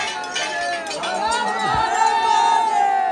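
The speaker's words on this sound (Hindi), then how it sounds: "शानदार भीड़ छै। देखियो भीड़ में जान छै।" A dense crowd murmurs at a Mahashivratri temple festival, with voices and shouts mingling over a steady ringing, clinking tone, close and continuous.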